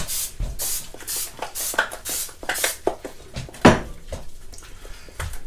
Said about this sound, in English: it does take a minute and some muscle to mix that, because getting the eggs to fold into the cocoa powder